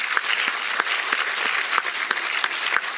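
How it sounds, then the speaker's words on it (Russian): An audience at a creative evening in Nalchik, marking a book publisher's 70th birthday, claps in steady, dense applause that holds at an even level throughout. "аплодисменты."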